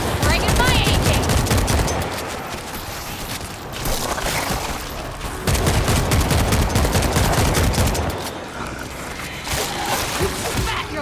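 An AK rifle fires in the zombie shooter World War Z: sustained loud automatic bursts with brief pauses, layered with game noise and voices.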